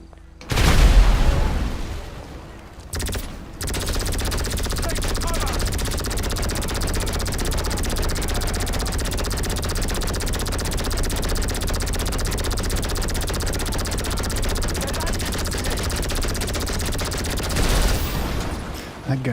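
Sustained gunfire in Grand Theft Auto 5 Online, a loud continuous fusillade of rapid shots after an opening boom, running nearly twenty seconds with a player's voice breaking in now and then.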